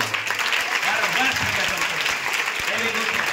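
A group of people clapping hands together in a class, a dense steady patter of applause lasting throughout, with some voices faintly mixed in.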